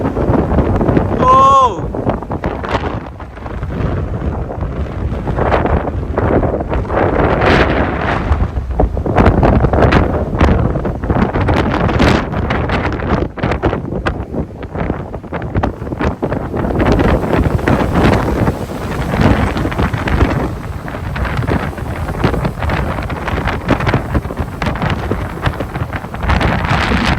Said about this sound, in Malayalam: ഞാൻ അങ്ങോട്ട് ഇറങ്ങിയപ്പോൾ തന്നെ എന്ത് കാറ്റാണ് വീശുന്നത് നോക്കിക്കോണേ